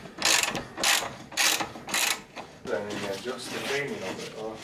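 A ratchet clicks in quick bursts while undoing a nut on the suspension of a Nissan 350Z drift car, several loud runs of rapid clicking followed by workshop noise as people talk.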